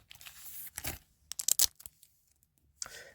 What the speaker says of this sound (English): we're going to need those scissors back